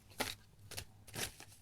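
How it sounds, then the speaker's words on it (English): Tarot cards are shuffled by hand in quiet, soft bursts of riffling and sliding, about four short shuffles spaced irregularly, close by with no talking. "Just shuffle until I feel it's time to stop."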